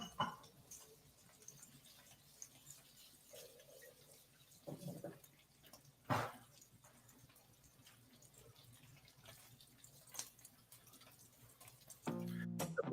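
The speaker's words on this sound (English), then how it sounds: "I'm just going to wash my hands" Hands being washed under a running kitchen tap into a sink, a soft steady water flow with occasional splashes, clatters and small knocks, fairly quiet and close, with no talking.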